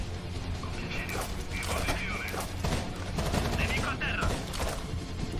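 Gunfire in the tactical shooter Rainbow Six Vegas 2 at a rail yard, a dense continuous barrage of rapid shots and mechanical clatter with a voice heard faintly behind it throughout.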